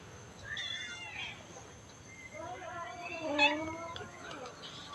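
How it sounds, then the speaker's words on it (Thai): A sick cat meows several times, with thin, plaintive calls close by amid a quiet background, while a person speaks softly nearby. "ในนั้นมีน้องเหมียวป่วยอีกหนึ่งเหมียว น้องละมุด"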